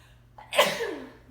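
A single sneeze, a short intake followed by a sharp burst that trails off, heard at moderate distance in a quiet room during a nursing head-to-toe physical exam.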